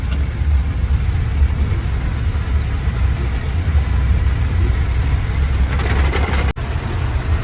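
A car driving in heavy monsoon rain, a loud, steady low rumble of engine and road noise with a constant wash of rain across the whole stretch.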